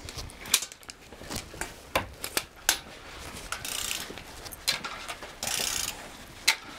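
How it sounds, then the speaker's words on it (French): A ratchet wrench clicks in quick bursts while tightening the cylinder head bolts on a Peugeot 205's TU engine, sharp close ratcheting clicks with brief metallic rasps between pauses. "tiens, je te donne le cliquet"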